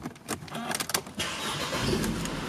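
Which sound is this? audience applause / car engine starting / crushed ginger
car engine starting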